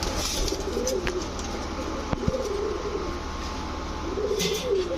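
Racer pigeons, including green and black checker cocks and hens, coo in a few low drawn-out phrases under steady background noise, with an occasional sharp click.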